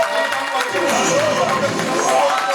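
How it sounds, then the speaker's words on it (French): A church congregation greets a musician with loud crowd applause and cheering, a dense continuous wash of clapping and voices filling the hall close by. "Applaudissons très fort."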